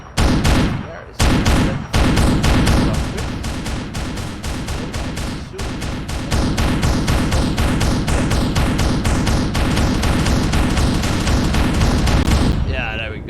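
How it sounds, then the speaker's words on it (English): A warship arsenal in Space Engineers, around the Dutch light cruiser Hr. Ms. De Ruyter, fires weapons. A loud, continuous barrage of overlapping blasts and gunfire carries on for over ten seconds with barely a pause, then cuts off abruptly. "I love the new explosion effects that AWG developed for his arsenal"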